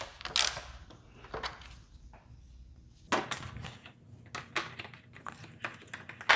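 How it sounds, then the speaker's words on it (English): Two 4mm hex bolts being loosened and removed from a motorcycle headlight: scattered small metallic clicks, taps and ratchety ticks, close and fairly quiet, with no talking. "now you're going to go ahead and remove these 2 hexes, which are also 4mm."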